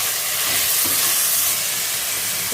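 Chopped large tomatoes hit a pan of frying ginger-garlic paste, giving a loud, steady hissing sizzle held close and unbroken throughout.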